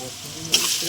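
Ground spices for a mutton curry fry in a hot pan, giving a brief, close sizzle that flares suddenly halfway through the fraction of a second.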